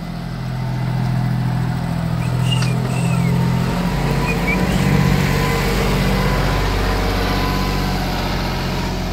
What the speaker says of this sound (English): It's a tractor after all.